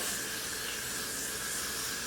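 A continuous broadband hiss of spray being applied onto a bald cap, steady and close with no pauses, alone without talk.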